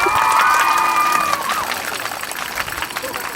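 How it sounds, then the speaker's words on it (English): Children at a primary school climate awards event cheer and applaud loudly, with a whistle-like tone early on, then the clapping and shouting fade to a lighter patter. "So a big round of applause to every one of you guys."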